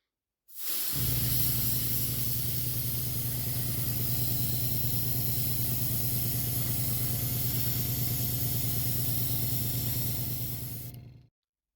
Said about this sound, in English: Okay, we are ready for some gloss varnish.